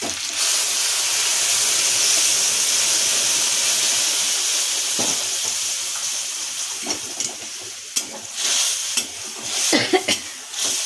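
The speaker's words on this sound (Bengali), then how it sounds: "এবার ডালটা ঢেলে দিচ্ছি" Mung dal poured into a hot pan: a loud, steady hiss and sizzle that breaks up into bursts of bubbling and stirring toward the end, with no speech.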